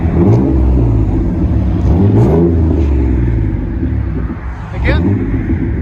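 Revving of a Chevy S10 4.3L V6 running a straight pipe exhaust with 4-inch tips: a loud, close engine rising and falling through several short revs over a continuous low growl.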